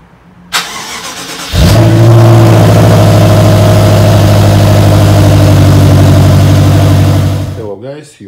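A BMW E70 X5M V8 cold-starts with a sharp crank and roar, then settles into a loud, steady high idle that holds for several seconds before a brief voice at the end.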